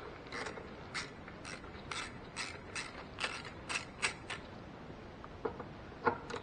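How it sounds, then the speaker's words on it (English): A ratchet wrench clicks on the valve cover bolts of a 2004 Ford Focus, with a series of short, quiet, irregular ratcheting ticks heard close by in a garage setting. "Yeah, we need a ratchet wrench for that."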